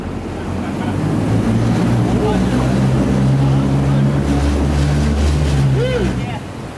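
An amphibious duck tour boat's engine drones steadily over wind and splashing water, the motor hum rising slightly as it speeds up, with faint voices in the background.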